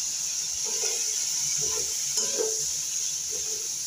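Chopped onion frying in hot oil, a constant close hissing sizzle with soft stirring scrapes and knocks coming in several short bursts, no talking over it.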